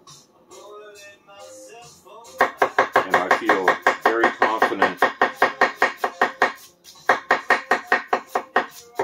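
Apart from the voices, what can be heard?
chopping food with a tall gyuto chef's knife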